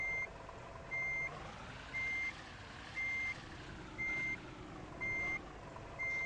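Truck reversing alarm in the driving game Truck Simulator Ultimate: a steady series of seven evenly spaced electronic beeps, clear and loud, over a low engine hum with no talking.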